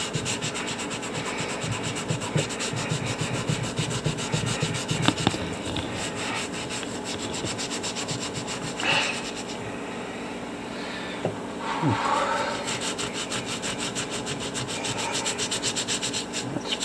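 A sponge scrubs a fossil needle fish with a close, continuous rubbing and rasping. The strokes repeat quickly and steadily, with a few brief lulls and small knocks.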